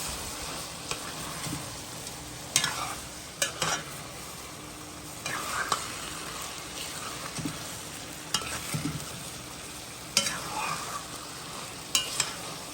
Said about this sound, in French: Mélange un peu tout comment.